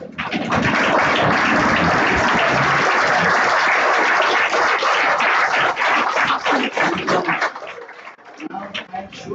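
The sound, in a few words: audience applause for the speaker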